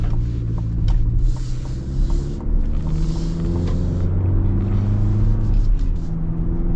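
Engine of a 2024 Chevy Colorado Trail Boss pickup heard from inside while driving, a steady low rumble with shifting pitch as it pulls, accompanied by faint clicks of a turn signal.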